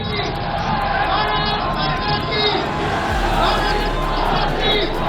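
A large crowd in Ahmedabad cheering Narendra Modi, a dense roar of many voices under a narrator speaking.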